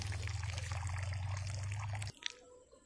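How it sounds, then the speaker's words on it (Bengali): Water drains off a bundle of freshly collected aquatic weeds gathered as duck and fish feed, pouring in a steady close trickle for about two seconds before stopping abruptly. "পানিটা সেঁকে নিচ্ছি আমি।"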